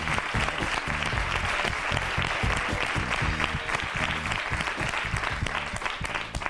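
Sustained audience applause fills a television studio after an interview with a singer-songwriter, a dense, steady wash of clapping at even loudness throughout with no voices on top.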